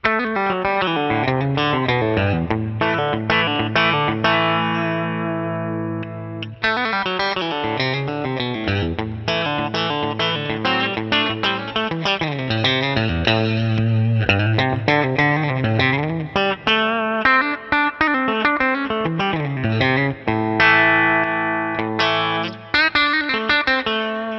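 A distorted electric guitar, a custom 1980s Schecter Telecaster on its bridge pickup, plays a sustained run of chords and melodic lines, loud and continuous, with effects-laden, reverberant tone throughout.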